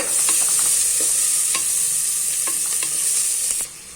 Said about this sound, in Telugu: ఆనియన్స్ వేసుకొని బాగా కొంచెం కలర్ వచ్చేంత వరకు వేయించుకోవాలి